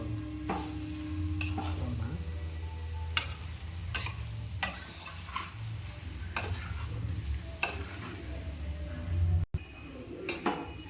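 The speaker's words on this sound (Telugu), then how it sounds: "బాగా మొత్తం పచ్చివాసన అంతా పోయేలాగా ఫ్రై చేసుకోండి క్యారెట్ని" Carrots deep-frying and being stirred in a pan for carrot halwa, a steady sizzle under repeated scraping and clinking of a spoon against the metal, close and continuous.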